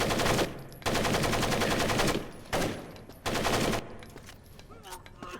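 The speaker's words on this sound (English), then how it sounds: "They're just shooting away." Automatic gunfire in the stealth game Splinter Cell Pandora Tomorrow, three loud sustained bursts of rapid shots separated by short gaps, then quieter game ambience.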